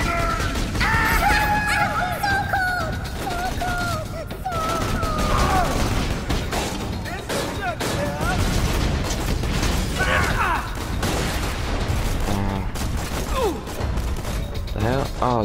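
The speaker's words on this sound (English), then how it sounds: "Tossing grenade!" Grenade blast and gunfire in Borderlands 2, rapid bursts of shots and pops over busy game sounds and mechanical clatter, with a voice talking throughout.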